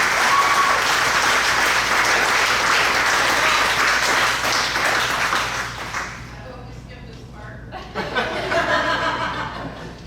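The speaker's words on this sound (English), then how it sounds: "she deserves a big round of applause for today" Wedding reception guests break into loud, sustained applause mixed with chuckles and laughter, fading after about six seconds before a brief renewed burst of clapping near the end.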